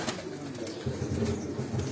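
Breeder pigeons cooing on a rooftop, with low, soft rolling coos repeating in a loose rhythm close by, plus a faint rustle that may be wings, over light outdoor background noise and no talking.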